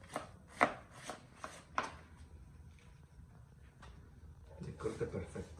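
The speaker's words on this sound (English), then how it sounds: "He's the best at chopping the cabbage." A knife chops cabbage on a cutting board for green chicken pozole: about five crisp, close thuds in an uneven rhythm over the first two seconds, followed by quieter kitchen rustling and a voice talking near the end.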